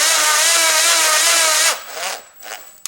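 A drill driver runs steadily with a high whine while tightening a cylinder head bolt on a Toyota Camry 2.4 VVT-i engine, then stops abruptly as the bolt seats, leaving a few faint clicks and rattles.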